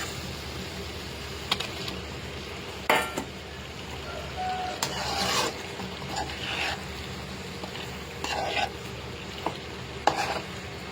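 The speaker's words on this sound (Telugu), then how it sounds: "లైట్గా తిప్పుకొని, లేదంటే ఎగ్స్ బ్రేక్ అయిపోతాయి." Eggs in a simmering curry being gently stirred in a pan, soft frying sizzle underneath with intermittent scraping strokes and a few light clinks of a spoon against the pan, no talking.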